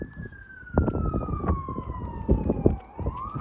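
An approaching fire truck siren sounds loud and close, its steady wail sliding slowly downward and then sweeping up again, heard over rumbling traffic and wind on an outdoor walk.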